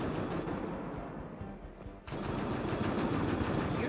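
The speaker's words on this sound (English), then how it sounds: "Is the gunfire coming from here?" Rapid, continuous bursts of Mass Effect: Andromeda gunfire rattle on, dip briefly midway, then resume just as dense and loud.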